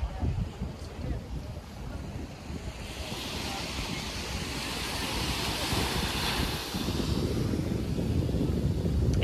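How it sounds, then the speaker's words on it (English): Waves at Unawatuna Beach in Sri Lanka make a steady, broad roar of surf. Strong wind rumbles across the microphone throughout, and the wash swells gradually louder. "And this is Unawatuna Beach."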